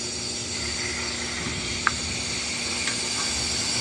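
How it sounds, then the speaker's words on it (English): Steam flows with a steady, constant hiss through a Spence steam pressure reducing valve at the Bromo Seltzer Tower, with a faint click partway through. "you'll be able to hear the steam pressure, the steam flow increase"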